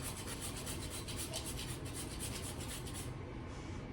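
Fresh whole nutmeg grated by hand for a yellow squash bread batter, a steady run of quick rasping strokes close up that stops near the end.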